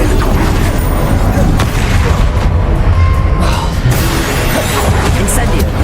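Spell casts and explosions in the video game Hogwarts Legacy, loud continuous booms, crashes and magical blasts layered thickly over a voice shouting spell names throughout.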